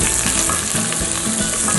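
Onion drops into hot oil with cardamom and whole spices for tomato chicken rice, a loud dense sizzle crackling steadily throughout with a few stirring scrapes, no voices.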